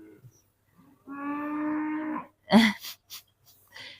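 A cow in a field behind the speaker lets out one sustained, nasal moo at moderate distance, followed by a louder snort-like burst and a few short rough grunts.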